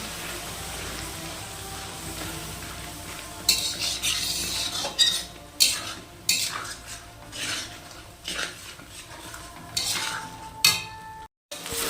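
Spice masala for sidol is stirred and fried in a pan, starting as a quiet sizzle before repeated loud metal spatula scrapes and clanks against the pan set in, close and rhythmic, ending in a brief silence.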